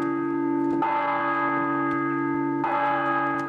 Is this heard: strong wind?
no